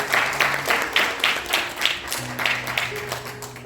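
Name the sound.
audience applause welcoming ensemble leader to the stage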